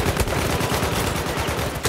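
Rapid, dense gunfire from the video game Battlefield 1, a continuous loud clatter of overlapping shots and bursts that fills the whole moment.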